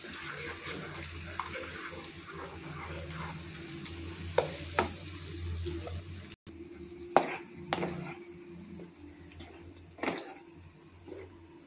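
Tomato-onion puree cooking on a low flame for kaju masala, a steady, watery low sizzle with occasional sharp ladle clinks against the pan, close, with no talk.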